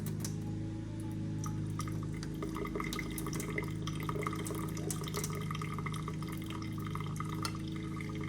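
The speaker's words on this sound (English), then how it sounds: "If you hear popping, don't worry, that's just the hot water." Soft, irregular ticking and popping over a steady low hum, hot water crackling in a pot while making bubble tea, faint and continuous.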